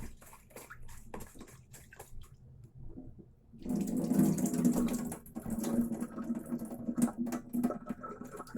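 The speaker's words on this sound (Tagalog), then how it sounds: "hugasan po muna natin itong bigas na ito" Rice being rinsed by hand under a running kitchen tap, quiet clicks and handling at first, then a steady splashing stream of water filling and swirling in the container.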